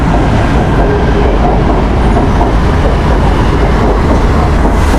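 A Bangkok BTS Skytrain passes on its elevated track close by, a loud, steady roar of wheels and motors with faint rail clatter that fills the whole stretch without a break.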